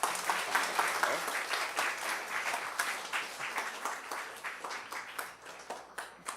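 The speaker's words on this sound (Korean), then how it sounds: "다시 한번 큰 박수 올려주시고" A church congregation at Onnuri Church Osaka applauds during a Sunday worship service, a dense wash of clapping from many hands that gradually thins and fades, with a voice briefly heard over it.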